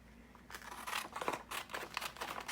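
Very sharp scissors snip through magazine paper while images are fussy cut, a quiet close-up series of crisp, rhythmic cuts and rustles with no talking.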